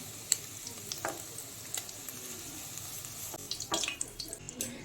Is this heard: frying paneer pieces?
yes